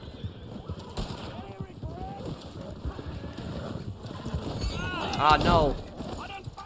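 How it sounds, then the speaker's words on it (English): Horse hooves clip-clop steadily in Red Dead Online, joined by a brief whinny near the end, with someone talking over the sounds throughout. "What is this horse doing just standing here?"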